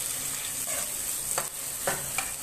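Onion, cinnamon, cloves, cardamom and curry leaves sauté in a pan, a steady hiss of frying broken by a few scraping stirs.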